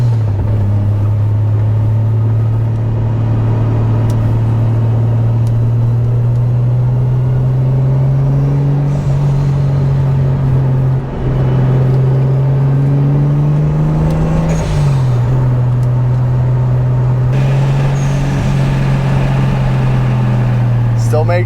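A Toyota MK3 Supra Turbo with its 7M engine, heard from inside while driving: a loud, steady droning growl that rises gradually in pitch, dips briefly, then climbs again, with faint turbo spooling above it.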